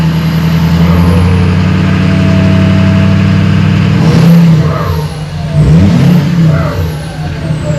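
A Power Stroke V8 diesel engine runs loud and close, holding a steady low drone before its revs climb and then swing up and down midway through.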